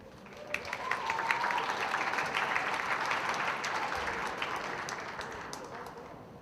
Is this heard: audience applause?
yes